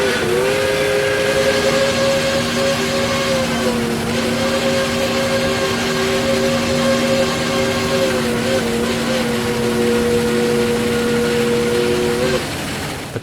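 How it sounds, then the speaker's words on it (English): Shay steam locomotive No. 8 of the Pickering Lumber Corporation climbs a logging grade and sounds a long, steady chime whistle for a road crossing, held for about twelve seconds with a short dip partway, over a rumbling train. "The climb continues as the Shay whistles for Standard Road."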